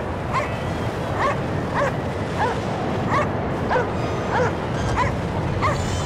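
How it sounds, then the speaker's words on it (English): In the video game Cryostasis, a dog barks repeatedly on a snowy, icebound ship, about eight evenly spaced barks over a constant loud wind-like background roar. "There's the dog."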